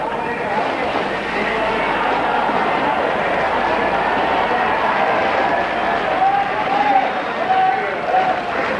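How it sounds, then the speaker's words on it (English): A big West German grandstand crowd cheers approval during a men's single sculls rowing final at the 1981 World Championships, a broad sustained roar at steady loudness with a commentator talking over it. "This big West German crowd in the grandstand beginning to voice their approval"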